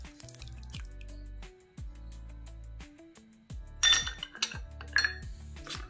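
A spoon stirs whole-wheat biscuit dough with sour yogurt in a bowl, clinking and scraping against the sides in a steady, repeated rhythm that grows brisker and brighter toward the end.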